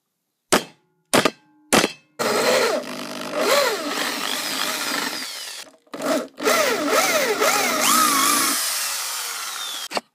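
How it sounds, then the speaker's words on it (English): A power drill bores a hole through a metal shuriken after center punching, with three short bursts followed by a long, continuous whining grind that pauses briefly and resumes, close and fairly loud. "drilling."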